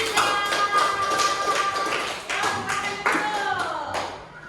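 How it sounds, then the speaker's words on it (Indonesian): Pupils clap their hands together at a classroom coding and artificial intelligence lesson, a run of close, sharp claps in an uneven rhythm with tonal sounds and brief voices mixed in. "Tepuk tangan untuk kelompok 3."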